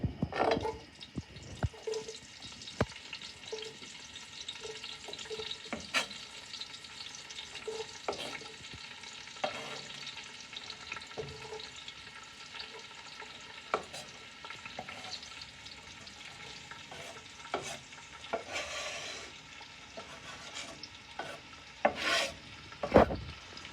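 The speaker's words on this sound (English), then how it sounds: "When the oil gets a little bit hot, then we're gonna add the onions, garlic, and the peppers." Onions, garlic and peppers frying in hot oil for penne, a steady low sizzle with scattered stirring clatters and occasional louder scrapes throughout, no talking.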